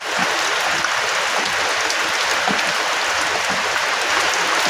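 Heavy rain pours down in a dense, steady hiss that stays loud and even throughout, with no voices and no breaks, the kind of downpour that brings out toads and flying termites.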